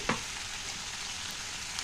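Hot oil spluttering and sizzling as boiled elephant foot yam goes into the pan, a steady crackle with a sharp pop at the start.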